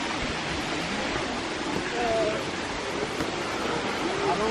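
A waterfall in the Costa Rican jungle at Diamante Verde makes a steady, broad roar of rushing water. It stays continuous and fairly loud all the way through, with a faint voice briefly in the background.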